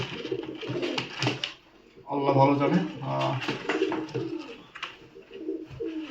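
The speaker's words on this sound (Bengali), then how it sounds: "মনে হচ্ছে নর কবুতর" A male pigeon coos in low, throaty bursts close by while someone talks over it, at a market.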